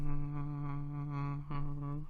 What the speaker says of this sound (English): And that was the sound of a construction light.